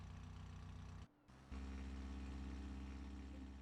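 An aircraft engine idling at about 2,000 RPM in a video game, a steady low hum that drops out briefly, then returns slightly louder and fuller.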